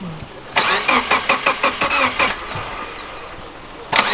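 A JDM Subaru WRX fitted with new eBay headers cranks over in a rapid run of about eight starter pulses, falls quiet, then a final brief crank returns at the end, loud and close.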